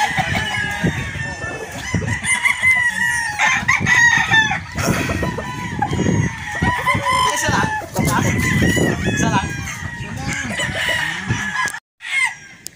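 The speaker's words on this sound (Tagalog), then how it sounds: "Sinamahan po natin ng isang pure Boston roundhead" A pure Boston roundhead gamefowl rooster crows loudly and close on a Batangas game farm, with clucking and other fowl around it, under brief bits of background talk.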